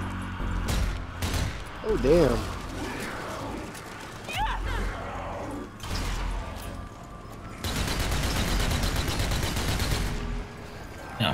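Rapid bursts of gunfire from a weapon in the zombie shooter Zombie Army 4, sharp repeated shots and clattering volleys, loudest in a sustained stretch near the end, with a man's brief exclamation in between.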